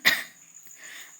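A young woman coughs once, sharp and close after breathing cigarette smoke, followed by quiet rustling and faint breathy sounds.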